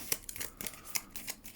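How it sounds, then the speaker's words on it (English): Strategy cards for the RAF Eagle board game being shuffled by hand, a quick series of sharp papery riffles and snaps in close succession. "Now that's me shuffled up the strategy cards."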